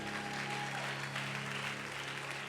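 Church congregation applauding together during a worship service, a steady dense wash of clapping held at even loudness throughout, with a faint sustained tone underneath.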